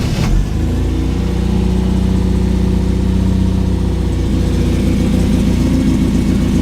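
An MGB GT's 1.8 litre B series engine with stainless steel exhaust fires up from cold after a brief starter crank, then settles into a loud, steady, close idle that runs throughout.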